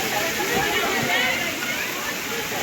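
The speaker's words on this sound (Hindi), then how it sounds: "ये देखो सुंदर, बहुत सुंदर पानी गिर रहा है।" Water pouring down at a lake in Chandigarh, a steady rushing, splashing roar close by, with someone talking excitedly over it.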